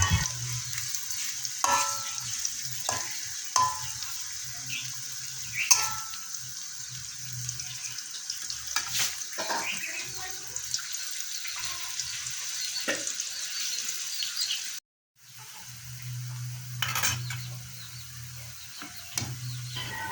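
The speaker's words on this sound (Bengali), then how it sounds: "পেঁয়াজ ও শুকনো মরিচ ভালো মতো লাল লাল করে ভেজে নেব।" Sliced onion and dried red chilies fry in hot oil, giving a soft, steady sizzle broken by scattered clinks and scrapes of a spatula stirring the pan, with a brief silent gap partway through.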